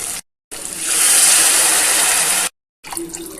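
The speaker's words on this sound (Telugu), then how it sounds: "వాటర్ యాడ్ చేసుకుందాం" Water gushes and splashes steadily for about two seconds, a bright hissing pour into a container, with brief silences before and after.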